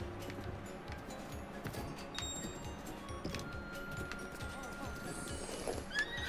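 Horse neighing and hooves clip-clopping in the horse minigame of the video game Zelda: Breath of the Wild, heard as fairly quiet game audio over a busy steady background.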